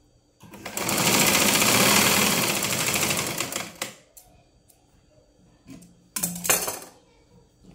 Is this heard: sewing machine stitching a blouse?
yes